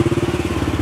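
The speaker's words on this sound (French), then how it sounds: "Attention moteur." A motor engine runs close by with a steady low rumble that pulses rhythmically, loud and alone for about a second.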